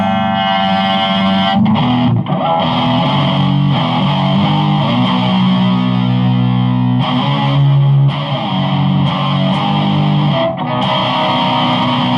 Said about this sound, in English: I'll bring the distortion back in.